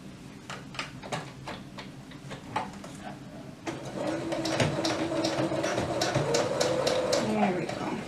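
A domestic sewing machine that needs a tune-up runs while stitching a toddler's elastic-waist dress. It starts as a slow, uneven ticking and then settles into a fast, steady mechanical whirr and clatter that holds to the end.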